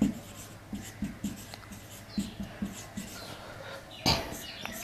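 Chalk tapping and scratching across a classroom board, in short quick strokes grouped in bursts, faint against low room noise, with one louder knock near the end.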